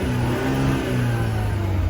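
An Infiniti Q60 engine in track mode revving in a sustained, loud drone, nearby and alone with no talking.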